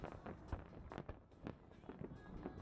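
Smiley-face fireworks bursting at a night gathering: a rapid run of muffled booms and crackling pops at irregular intervals, some louder and closer, with faint voices and crowd noise underneath.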